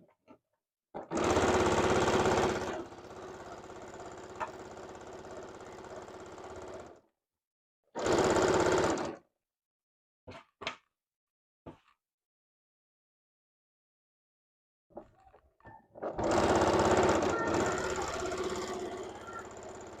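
A sewing machine stitches bias tape onto a qaspeq vest, running in loud steady bursts: a long run, a short run, a few brief taps, then another long run, with quiet gaps between.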